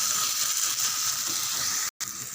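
Ground masala paste for chicken fry sautéing in a pan, a steady close hiss of sizzling that runs throughout, broken by one brief silent gap near the end.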